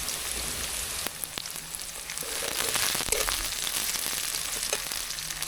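Chopped onions and green chilies fry in hot oil in a wok, a steady, close crackling sizzle that swells briefly as the ingredients hit the oil, with a few light clicks of the utensil.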